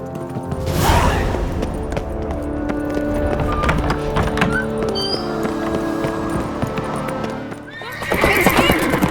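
Horse hooves clip-clop steadily in Witcher 3: Wild Hunt, with a loud neigh near the start and another whinny rising at the end, set against a busy game soundscape.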